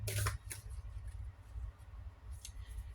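Tarot cards being shuffled by hand, a quick riffle burst at the start followed by softer, intermittent card rustles and flicks, close and quiet, with no talking.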